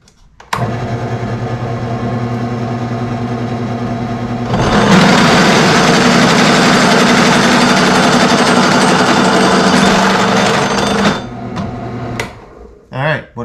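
A power drill bores holes through an early Ford brake drum, a steady loud grinding whine that grows harsher midway, then cuts off with brief rattling near the end; no talking.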